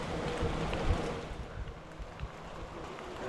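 Rain falling across a river, a dense steady hiss of drops on the water with low rumbling underneath, heard from the near bank without voices.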